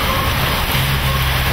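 Steady, dense rain hiss fills the clip, a continuous wash of falling water with a low rumble underneath and no voices.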